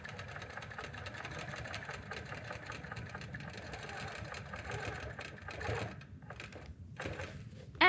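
Sewing machine stitching in the ditch along a quilt row, a steady low motor whir held for several seconds before it slows and stops, moderately quiet and close.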